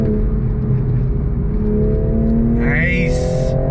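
Toyota GR Supra manual with a straight-six engine accelerating hard, a rising engine drone heard from inside, with a climbing whine toward the end and no talk.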